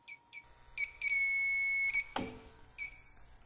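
An Inficon Tek-Mate leak detector picking up a 410A refrigerant leak gives bright, high electronic alarm beeps: a few short chirps, one sustained tone about a second long, then another short beep, close and clear with a brief knock in between.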